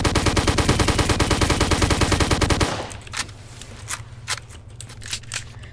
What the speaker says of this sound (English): Who's shooting at the walls?